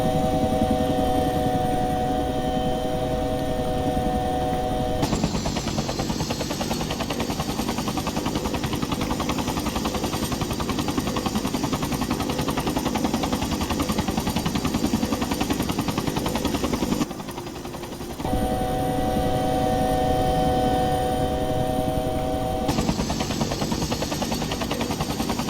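A helicopter orbits before landing at the small Keenwild Station helibase, its loud, steady rotor and engine drone continuous and close, dipping briefly once before returning at full strength.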